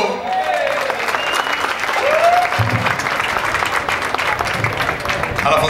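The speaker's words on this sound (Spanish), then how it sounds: "Viene, viene, aplauso." A crowd at a town anniversary celebration in Coamo, Puerto Rico, applauds loudly and continuously, many hands clapping at once, with a voice briefly heard over it at the start.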